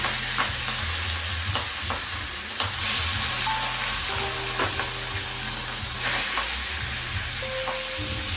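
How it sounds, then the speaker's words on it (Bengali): Marinated rohu fish pieces, coated with garlic, ginger, green chilli, salt and turmeric, frying in hot oil, giving a steady close sizzle broken by the scrape and clink of a utensil stirring the pan. "এখন আমি মাছগুলোকে ফ্রাই করছি।"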